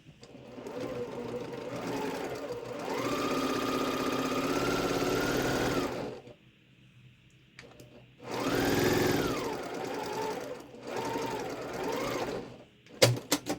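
A home sewing machine stitches two fabric triangles together for a quilt block, running in steady bursts of fast, even motor whir with a short pause between runs and a clunk at the end, close and loud with no talking.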